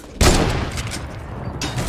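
Automatic AK rifle fire in a competitive Call of Duty style online match, a sharp burst opening into a rapid, loud rattle of shots that keeps going to the end.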